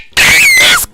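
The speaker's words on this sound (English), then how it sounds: "This scream is a little over the top." A loud, shrill scream from a Minecraft speedrun, one sustained high-pitched shriek lasting most of a second with a wavering pitch that slides at the end, close and harsh.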